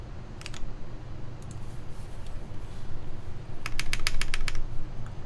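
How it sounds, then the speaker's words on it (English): Switches being pulled out of a Luminkey LX 60 percent mechanical keyboard: short clusters of sharp plastic clicks and snaps, one burst early and a faster run of about eight clicks near the end, over a steady low room hum. "She's doing all this to remove MX Browns."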